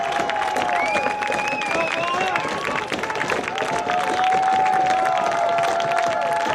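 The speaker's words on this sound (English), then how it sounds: "you can hear the roar from the crowd" A stadium crowd at a college rugby match between UCLA and GCU roars and cheers after a try is scored, a loud, sustained wall of voices and clapping that holds steady throughout.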